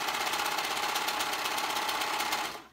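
A serger sewing machine runs over fabric, a fast, even mechanical chatter, close and steady for a couple of seconds before stopping.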